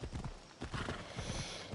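Horse hooves clip-clopping in the video game Assassin's Creed Odyssey, a steady rhythmic trot of repeated hoof beats at moderate level with a faint whinny-like tone, no talking over it.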